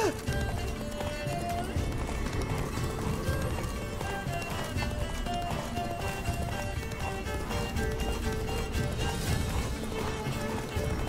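In The Witcher 3 video game, a horse gallops with brisk, rhythmic hoof clip-clops running continuously, while voices talk over the hoofbeats throughout.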